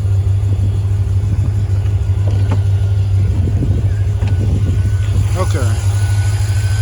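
A Chevrolet Corvette, back running after ignition and coolant repairs, idles with a loud, steady low rumble. A person briefly speaks over it.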